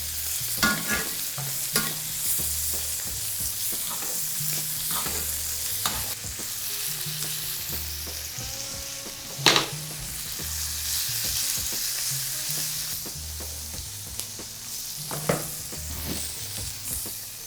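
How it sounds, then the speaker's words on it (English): Steaks frying in a pan with rosemary and thyme, a continuous close sizzle with intermittent spoon clinks and scrapes as hot fat is basted over them, one sharper clatter midway, no voices. "And you can start basting the steaks like that."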